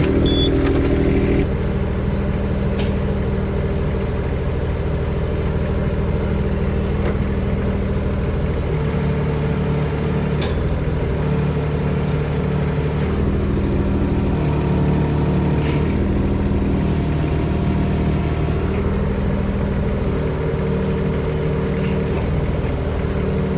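Engine of a KYMRON machine powered up and running its hydraulics, a steady mid-pitched mechanical drone with shifting tones as the load changes, continuous and fairly close.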